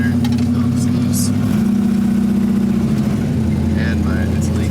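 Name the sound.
1961 Chevrolet Impala lowrider engine idling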